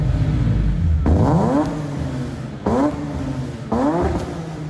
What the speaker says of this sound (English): Let me show you what German horsepower sounds like.